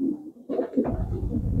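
A pigeon of a racing flier line coos in a loft, low soft throaty calls repeating close by over a steady murmur of background noise.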